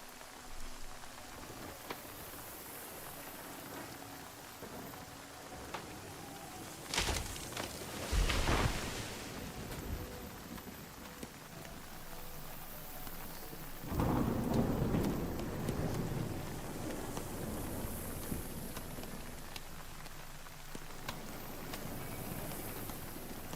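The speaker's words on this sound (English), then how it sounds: "hailing right now. That's why I don't want to go out there" A hailstorm in the video game Nightingale: continuous pelting patter with two louder rushing bursts partway through, over a low rumble; no voices.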